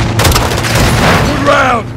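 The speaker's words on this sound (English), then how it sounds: "Gaz, hit with the launcher! Direct hit!" Rocket launcher round exploding in Call of Duty Modern Warfare 2, a loud booming blast with rumbling debris and echo over a couple of seconds, with other gunfire and a rising whine near the end.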